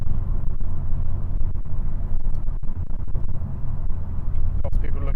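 Ford Focus ST engine while driving, a steady low rumble of engine and road noise running continuously throughout, with talk over it.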